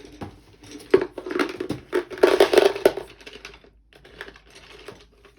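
Pencil crayons clatter and rattle as they are gathered up by hand, a busy close series of light wooden clicks and taps with a louder cluster in the middle, no talking.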